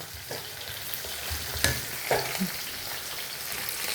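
Onion and spices sizzling in a pan for a fish curry, a steady close frying hiss broken by a few sharp scrapes and stirring knocks from a spoon.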